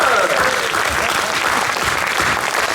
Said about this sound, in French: on applaudit Michel et la maison d'Hippolyte